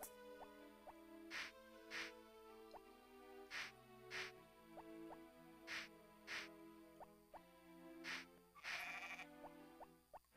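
Repeated sheep bleats from the video game Harvest Moon Back to Nature, several short cries spaced through the stretch over soft background game music, with no talking.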